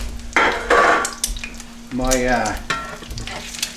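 Eggs sizzle in a hot pan, cooking into lacy eggs with browned edges. The frying stays close and steady, with louder bursts of crackling and a few scraping stirs. No one speaks.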